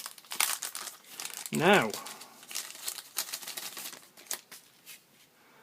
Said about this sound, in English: the knife is in a plastic bag